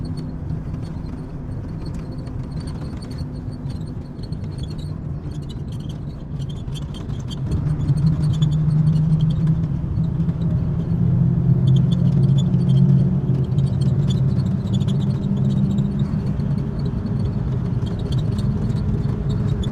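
A Darshona Deluxe bus cruising along the expressway toward Faridpur gives off a continuous low rumble of engine and road noise, heard from inside, swelling louder midway and staying steady, with no talk.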